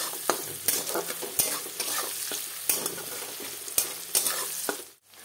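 Onions fry in a pan for a spinach fish curry, giving a loud continuous sizzle with regular scraping strokes of a spatula stirring them, before a brief drop to quiet at the end.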